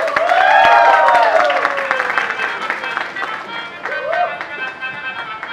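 A live audience bursts into loud applause and cheering, dense clapping swelling at the start and then thinning slightly, with crowd voices and a tonal ring mixed in.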